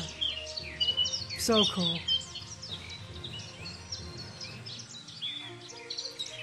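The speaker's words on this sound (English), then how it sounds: "There's more birds than I can figure out what they are, but they're everywhere." Small birds chirp and sing all around a hiking trail, a dense layer of bright tweets and trills with one louder close call near the start, while a person speaks briefly.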